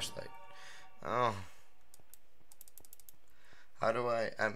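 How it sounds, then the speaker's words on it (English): Computer keyboard keys click in quick, light taps while someone plays a Minecraft horror map, faint and close, between stretches of a person talking. "I'm clicking all the buttons, but nothing's working"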